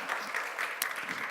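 Church congregation clapping during a Sunday Easter service to welcome newcomers, a short, even burst of dense applause heard alone.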